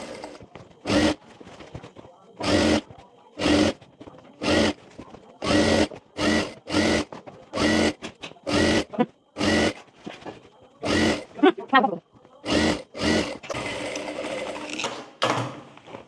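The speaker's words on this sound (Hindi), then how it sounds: "यहाँ से इसको लगाएंगे और यहाँ से सिलाई करते जाएंगे पूरे में" A sewing machine stitches an Anarkali kurti, running in repeated short loud bursts with brief pauses between them, then a longer continuous run near the end, close up and with no talking.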